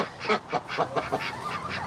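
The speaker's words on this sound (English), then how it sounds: "There's my ducks." Several ducks quacking and honking in quick, overlapping calls, fairly close, against an outdoor background hiss.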